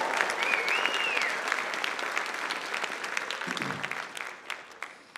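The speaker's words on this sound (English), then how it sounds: "we give them a big round of applause" An audience in a school auditorium gives a sustained round of clapping for graduating seniors at a high school awards night, loud and dense before thinning into scattered claps near the end.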